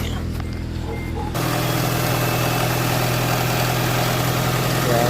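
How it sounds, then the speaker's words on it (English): A Honda Integra engine idles steadily while warming up, a continuous low hum that rises slightly in level after the first second, with no talk; the engine is stated to misfire and bog below 3,000 RPM. "So what I'm doing now is warming up the engine."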